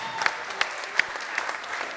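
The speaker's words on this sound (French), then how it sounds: "on peut applaudir très très fort" An audience at a French Christian broadcast applauds loudly, a continuous crowd roar of clapping with a few sharper claps standing out above it.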